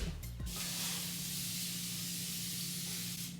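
A continuous hissing spray from an aerosol hair spray can, steady and close for several seconds after a brief clatter at the start.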